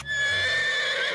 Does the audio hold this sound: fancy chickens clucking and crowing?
no